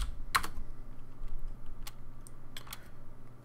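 Typing a component name on a computer keyboard in Fusion 360 software, a handful of crisp, separate keystrokes spaced irregularly over a quiet background hum.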